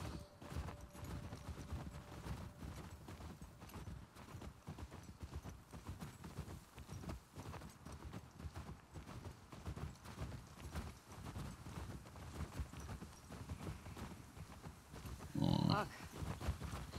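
Steady clip-clop of horse hooves at a trotting rhythm, moderately close, with a brief snort near the end, in the video game The Last of Us Part II.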